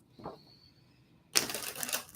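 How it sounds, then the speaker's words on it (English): Tarot cards are shuffled in a quick, crisp riffle of dense papery flutter lasting about a second, preceded by a faint tap and a thin steady tone in a quiet room. "I'm going to shuffle one more time after this too"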